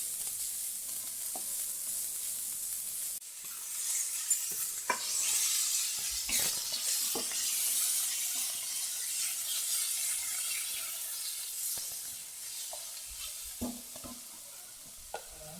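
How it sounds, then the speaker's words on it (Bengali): Onions sizzle in a pan while a utensil stirs them, a soft hiss broken by scattered scraping knocks, fairly close and quiet with no speech. "এগুলো একটু বেশ ভাজা ভাজা হয়ে যাবে পেঁয়াজটা"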